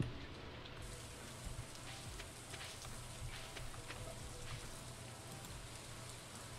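Steady rain falls in the farming game Stardew Valley, a continuous soft hiss of raindrops that holds an even level throughout with no other sounds over it.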